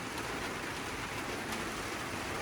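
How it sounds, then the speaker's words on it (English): Steady summer drizzle falls over a garden, a dense, even hiss of rain on surfaces that stays constant and close throughout, with no voices. "It's a pretty steady drizzle"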